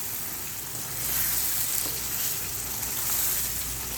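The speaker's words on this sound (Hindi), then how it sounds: "मैं इसका चूल्हा स्लो कर दूंगी और अच्छे तरीके से इसको मैं फ्राई करूंगी" Mutton frying in a pot over a low flame for a black pepper mutton dish, a continuous close sizzling hiss that swells slightly partway through, with no voices.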